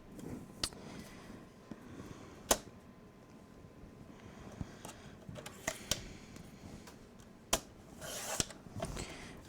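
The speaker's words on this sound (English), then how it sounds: "I'm just going to cut it into a rectangle" Scissors snip through folder paper to trim it into a rectangle, a scattering of sharp, quiet cuts and rustles at irregular intervals, close by in a quiet room.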